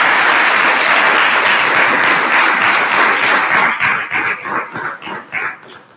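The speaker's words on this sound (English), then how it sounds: "So please, let's give them an amazing round of applause for every single one of you." A crowd at a school board meeting applauds loudly and steadily, honouring staff and administrators. For about four seconds the clapping holds dense and sustained, then it thins into scattered claps, with a dog barking among them as it fades.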